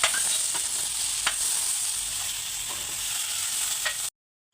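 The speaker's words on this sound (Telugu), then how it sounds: "ఇలా వంకాయలన్నీ ఇలా బ్రౌన్ కలర్ వచ్చినాయి కదా, ఇందులోనే మన 2 కట్ చేసిన టమాటాలు కూడా వేసుకుంటున్నా" Brinjal pieces and halved tomatoes sizzle in a pan with a steady, close, crackling hiss and a few sharper pops, then cut off abruptly near the end.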